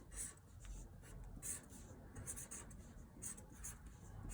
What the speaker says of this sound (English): what I'm going to do, and you might need a grown-up to help you, is I am just going to write